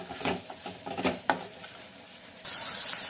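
Spices for moong dal varan, including onion-garlic masala and black masala, frying in a pan, with a close sizzle and several sharp stirring scrapes, then a louder, steadier hiss in the final stretch.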